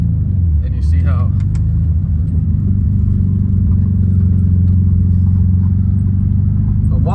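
A 1972 Volkswagen Beetle engine pulls away under throttle, a loud, steady low rumbling drone that holds close and continuous, with a voice talking over it.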